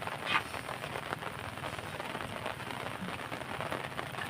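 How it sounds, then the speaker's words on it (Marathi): Steady rain falls in a wet monsoon setting beside an open ground, a soft continuous patter at moderate level with one brief brighter splash early on and no voices. "पाऊस चालू झालाय त्यामुळे सगळीकडे आवनी घेतलंय"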